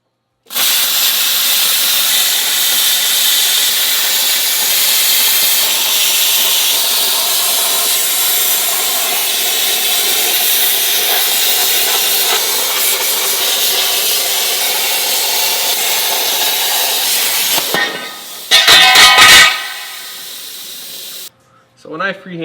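A plasma cutter slices through steel wheel well arches on a skoolie bus conversion, its loud steady hiss running unbroken for about eighteen seconds before a brief burst of sputtering and an abrupt stop.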